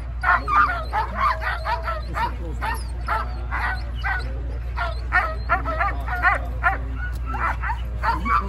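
Excited sled dogs at the Iditarod start in Willow, Alaska bark, yip and whimper in a dense, continuous chorus, close and loud over a steady low hum, with voices mixed in.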